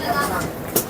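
A nonstop airport metro train in Kazakhstan rumbles steadily inside the carriage, with a faint rattle and a voice speaking over the ride.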